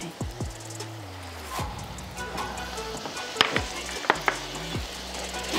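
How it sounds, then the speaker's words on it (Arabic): Chicken and potatoes frying in a pan with peppers, giving a steady sizzle with occasional scraping knocks as the food is turned, some low rumbling underneath. "عايزين نقلب الفراخ بتاعت البطاطس"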